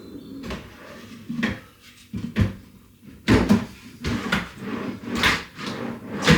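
Newly fitted wooden drawer worked in and out on freshly installed runners, making a close series of sliding rumbles and knocking thuds at uneven intervals, with no voices.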